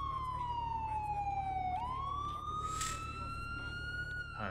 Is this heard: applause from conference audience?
no